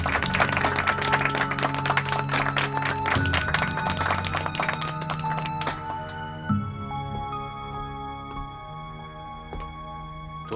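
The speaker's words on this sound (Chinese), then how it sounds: "鼓掌！" A group claps and applauds in a dense, lively burst over background music, then the clapping thins out and the music carries on alone.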